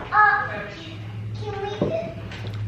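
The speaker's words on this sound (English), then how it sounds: "Excuse the kids chattering in the background." Children chatter in the background during a backyard ribeye steak tasting at a BBQ competition practice, with overlapping young voices rising and falling under a steady low hum.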